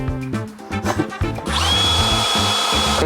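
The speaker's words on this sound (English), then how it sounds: "This is where we run into danger. Me and a drill." A power drill whirs steadily and loudly in the second half after some clattering and handling noises, used while upgrading the interior of a 1996–2004 Porsche.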